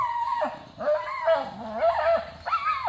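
A dog gives a string of whiny, drawn-out yelping barks, close and loud, rising and falling in pitch.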